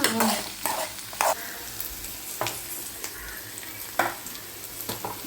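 Vegetables stir-fried in a pan, with repeated sharp spatula scrapes and clacks against the metal over a constant sizzle, loud and close, no speech.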